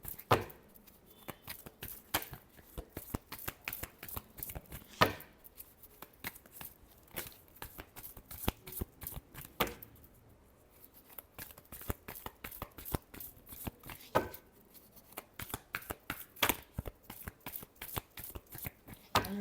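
A deck of tarot cards is shuffled close up in repeated crisp riffling bursts, quiet and rhythmic, with brief pauses between rounds.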